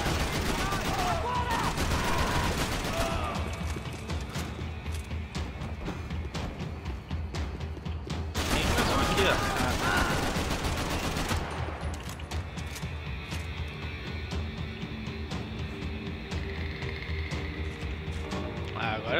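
Gunfire in the video game Max Payne 3 crackles in dense bursts of rapid shots, with heavier volleys around the middle, while someone talks over the action throughout.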